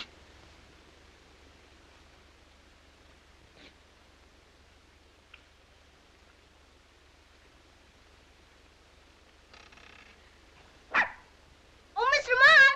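Puppies in a 1937 feature film break into a burst of high, overlapping yaps and whimpers near the end, loud and close after a long stretch of near silence.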